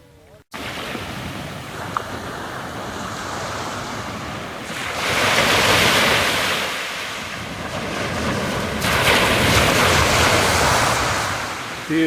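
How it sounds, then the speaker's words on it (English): Waves breaking on a beach on the northern side of Great Keppel Island as the tide comes in, a steady close surf wash that swells louder twice, with wind buffeting the microphone. "with the tide coming in, you won't find a more idyllic spot"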